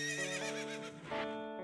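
A horse in a Zelda video game gives a loud, close, drawn-out whinny with rising and falling pitch, joined by a few clip-clopping hoofbeats near the end.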